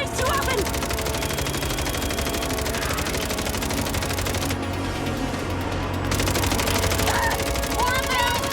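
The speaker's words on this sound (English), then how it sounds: "you don't hear about saints firing machine guns at mercenaries too often" Machine gun fire aimed at mercenaries in the video game MindsEye, sustained dense bursts rattling throughout with voices speaking over the combat.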